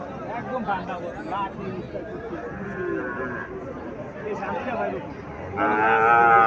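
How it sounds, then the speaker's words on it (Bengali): Cows low at a cattle market in Chandimura, Cumilla, where local dairy cows and Sahiwal bulls and calves are sold. Drawn-out moos rise over steady crowd chatter and nearby talk, with a louder, closer call near the end. "এখানে আরো একটা গাভী দেখা যাচ্ছে"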